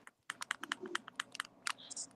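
Sharp clicks of fingers typing on a computer keyboard in a quick, uneven run of keystrokes, close and fairly quiet.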